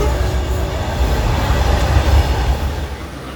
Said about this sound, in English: A twin WDG 4-hauled empty Ro-Ro freighter crosses here.